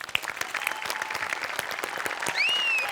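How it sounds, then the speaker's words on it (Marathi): A stage audience at a Marathi comedy show applauds, a dense, steady burst of clapping that swells toward the end, with a faint whistle rising over it. "प्रथमेश तुझ्यासाठी जोरदार टाळ्या"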